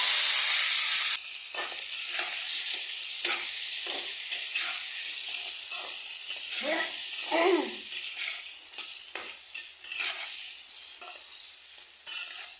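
Chopped onion, potato and pumpkin go into hot oil in a pan, setting off a loud, steady sizzle broken by scraping stirs and short clatters of the utensil against the pan.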